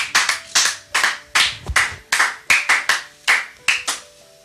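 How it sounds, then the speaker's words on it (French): A church congregation claps in a steady rhythmic beat, about a dozen sharp, loud hand claps in quick succession, close and clear with no talk over them. "Est-ce qu'on peut acclamer pour Jésus-Christ?"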